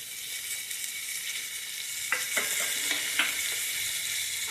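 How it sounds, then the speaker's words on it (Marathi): Chopped onion frying in oil in a pressure cooker for a brinjal and potato curry gives a steady, close sizzling hiss, with a few sharp stirring scrapes and clicks partway through. "आता हा चिरलेला कांदा आधी घालायचा"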